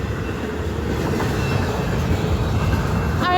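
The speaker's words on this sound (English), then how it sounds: "found my first intermodal train." A CN intermodal freight train rolls past close by at Kalar Road with a loud, continuous rumble and rhythmic wheel clatter, and a brief high metallic squeal near the end.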